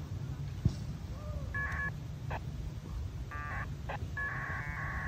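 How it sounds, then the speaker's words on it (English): Winlink packet radio data tones come from a handheld radio as messages are exchanged: a series of short, warbling, beeping bursts at uneven intervals over constant background hiss. "That's the sound of messages going back and forth."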